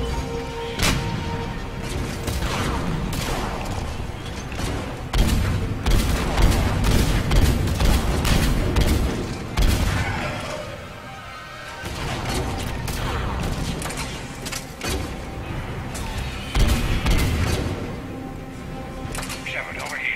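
Gunfire from Mass Effect 3 during an Attican Traverse side mission with a krogan squad, dense bursts and booming shots rolling almost continuously with a brief lull midway, under voices and music.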